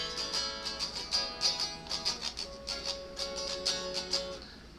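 Electric or acoustic guitar strumming the chorus chords of Someday, an upbeat, even rhythm of bright chord strums heard alone and fairly close.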